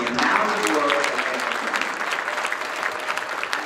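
Applause from an audience at a World Pride bid meeting honors Fort Lauderdale and Copenhagen, a crowd of hands clapping loudly at first and then tapering to a thinner, steadier patter.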